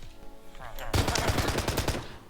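Pistol gunshots from a Minecraft guns mod ring out in a quick burst of sharp, loud cracks after a brief lead-in, following one another in a rapid rhythm.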